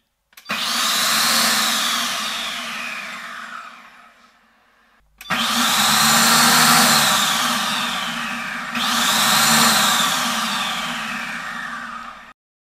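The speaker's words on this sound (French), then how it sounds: "Et là, on entend un ventilateur pour refroidir le moteur." A loud food processor motor on turbo setting whines in three long bursts, each starting abruptly and fading, with a steady cooling-fan whoosh underneath.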